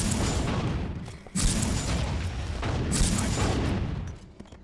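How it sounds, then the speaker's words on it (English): Rocket launcher blasts in Deus Ex: Invisible War, a run of loud, close booms with two sharp fresh impacts partway through, each rolling into a sustained roaring rumble before fading out. "I don't like this rocket launcher because the rockets are really slow"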